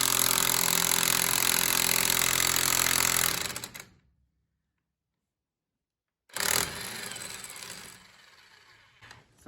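A Mastercraft 1/2-inch electric impact wrench hammers loudly and continuously against a stuck fastener, stops abruptly into silence, then bursts on again and tapers off, with no voices.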